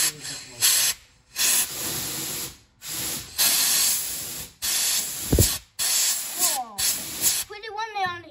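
Air blowing back out of the fuel filler pipe of a 1977 Chevy Impala street machine makes repeated short, loud hisses as a finger covers and releases the opening, with voices talking between bursts.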